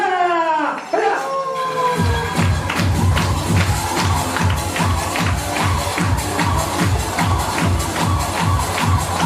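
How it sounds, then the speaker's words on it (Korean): Guests at a Korean first-birthday party clap together in a steady rhythmic beat, loud and close, starting right after a brief opening cry of voices and continuing evenly to the end. "여러분들 박수! 박수! 박수!"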